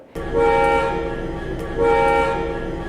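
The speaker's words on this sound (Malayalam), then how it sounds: "ഇനി രണ്ട് ഷോർട്ട് ഹോൺ മാത്രമാണ് കേൾക്കുന്നതെങ്കിൽ നമുക്കറിയാം ട്രെയിൻ പുറപ്പെടാറായി എന്ന് ട്രെയിൻ അറിയിക്കുന്നതാണ് ഇത്തരത്തിലുള്ള ഹോണുകൾ" Two short blasts of a train horn mark a departure, each loud and close, separated by a brief gap, with the engine's steady rumble underneath.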